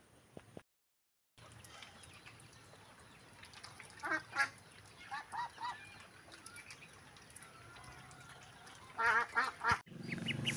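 Geese or ducks out on the water give a few loud honking, quacking bursts in clusters, separated by quieter stretches of soft background noise.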